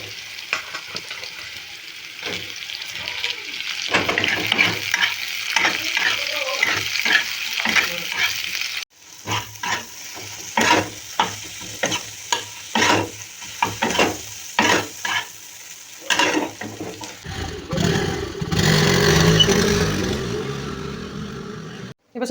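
Spices for ghugni, a dried pea curry, sizzle steadily in hot oil in a pan while a spoon scrapes and stirs in repeated strokes, with a louder hiss of frying near the end and no talking.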